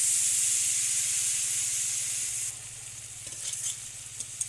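Ginger and spice paste frying in oil for a small hilsa fish curry hisses loudly and steadily, then the sizzle drops sharply to a quieter bubbling with light clinks as masala water goes in, no talk.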